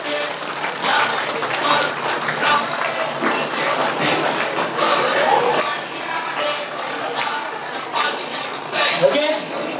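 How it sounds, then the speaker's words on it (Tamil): Scattered clapping from a crowd at a grand final event runs steadily beneath voices and room chatter, moderately loud and continuous. "கைத்தட்டல்"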